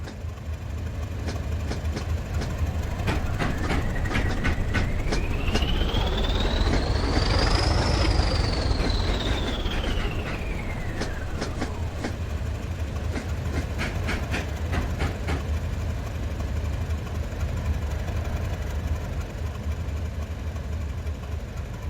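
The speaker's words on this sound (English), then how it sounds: "The 31s arrive into Giles Mount to await an oncoming Class 395 unit." Class 31 locomotives arriving at Giles Mount in a train simulator game, a loud rumbling diesel drone with rhythmic wheel clatter over rail joints and a rising then falling high whine as they pass.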